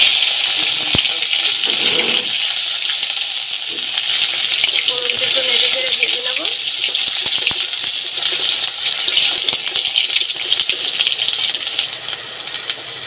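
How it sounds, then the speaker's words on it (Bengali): Whole cumin, dry red chillies and ginger paste fry in hot oil as a tempering, giving a steady, loud sizzle that runs throughout, with brief clatter from stirring. "ফোড়ন দিয়ে দেবো গোটা জিরে আর শুকনো লঙ্কা দিয়ে দেবো আদা বাটা"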